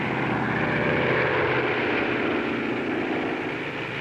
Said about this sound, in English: the transport towed the glider into position for the takeoff run